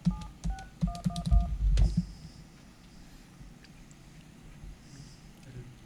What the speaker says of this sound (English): Let's call Tello